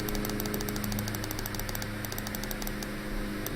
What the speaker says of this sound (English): I got my window open and somebody's cutting my lawn.